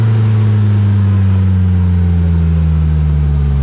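A 2022 Polaris Slingshot S with a 2-liter four-cylinder engine and manual transmission pulls through the gears, its loud, steady engine drone holding close and constant with no speech over it.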